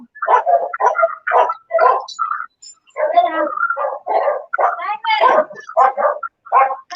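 A dog barks in a rapid, irregular series of sharp, close, loud barks with only brief gaps, alone without talk.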